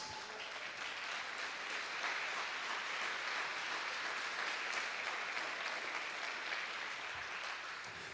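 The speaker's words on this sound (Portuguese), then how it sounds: "aqueles que podem aplaudam a Jesus" A church congregation applauds steadily for about eight seconds, a dense, even wash of clapping that holds at a constant level throughout with no voices breaking through.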